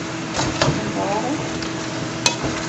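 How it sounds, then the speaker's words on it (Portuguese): Seasoning and meat stirred and frying in a pan for a country-style home lunch, a steady sizzle under scraping spoon strokes and a sharp metallic tap near the end, close and continuous. "vamos estar aí, ó, fritando isso aqui, que dá o sabor da carne"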